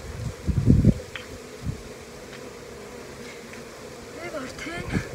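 Bees buzzing around a beehive, a continuous close hum with louder bursts as insects pass near, while a person talks over it.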